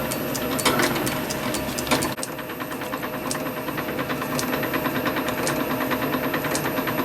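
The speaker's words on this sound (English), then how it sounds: "Now I'm going to machine this down to this diameter here, right along, and then we're going to finish the ends and tidy them up" A steady lathe whir with a continuous ticking, rhythmic clatter as a metal model-engine cylinder is machined down to diameter, close and fairly loud throughout with no talking.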